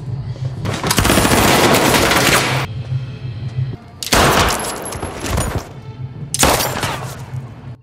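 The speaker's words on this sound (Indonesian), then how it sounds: "Adu tembak terus terjadi." Bursts of automatic gunfire in an action film shootout, three loud sustained volleys separated by brief pauses, with no talking.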